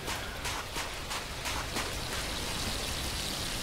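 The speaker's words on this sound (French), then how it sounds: "Et il commence à pleuvoir, ouais." Rain falls in the survival video game The Last Plague: Blight, a dense, steady patter and hiss with scattered louder drop hits throughout.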